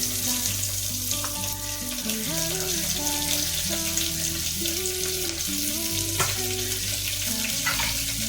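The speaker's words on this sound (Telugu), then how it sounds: "బాగా వేయించుకోవాలి అవన్నీ లైట్గా వేగాయి" Onions and green chillies fry in biryani masala with a continuous close sizzle and hiss, accompanied throughout by background music.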